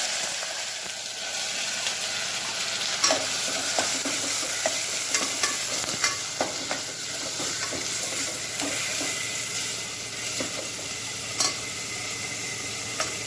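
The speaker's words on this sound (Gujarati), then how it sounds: "તેલમાં જીરું નાખીશું જીરું નાખીને ડુંગળી નાખીશું" Cumin and crushed onion paste frying in hot oil for a gram flour dumpling curry, a steady sizzle broken by repeated spatula scrapes and clacks against the pan, close and without speech.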